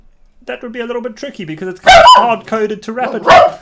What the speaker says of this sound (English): the dog's barking, just in time for the video